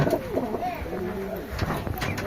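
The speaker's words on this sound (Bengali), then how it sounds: "এই যে কবুতর ওই যে" Pigeons on a small farm coo close by in soft, rising and falling phrases, with a faint voice in the background.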